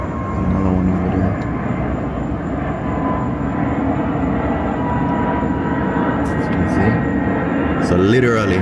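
A jet airplane takes off at a busy airport, its engine roar holding as a broad, steady rumble that fills the scene at a moderate distance, with brief rattling noises near the end.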